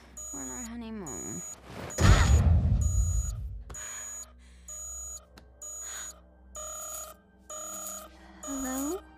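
An electronic alarm beeps in a steady repeating rhythm, interrupted early by a voice and a loud rustling burst, then keeps pulsing on its own.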